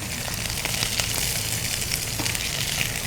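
Julienned leeks sizzle steadily in a hot pan, a dense, even frying hiss with light crackles as they are turned, close and constant, no voices.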